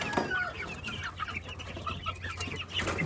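Young chicks peep and cluck among baby goslings and ducklings, a busy, near flurry of overlapping chirps and short calls that runs throughout.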